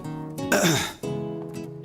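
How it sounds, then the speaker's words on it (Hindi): A single forced, throaty cough-like burst over a steady background hum, sounding deliberately faked rather than a genuine cough. "अगर नकली खांसी खांस ली हो"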